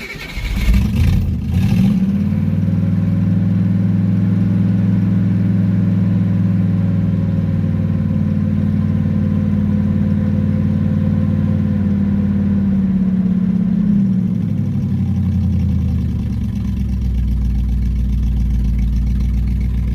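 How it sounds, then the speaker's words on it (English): A 1969 Buick GS 350 engine with an exhaust tick and low oil pressure cranks and fires, then runs with a rough, steady drone and slight ticking, its pitch shifting before dropping to a lower idle. "It does have a very nasty exhaust tick to it"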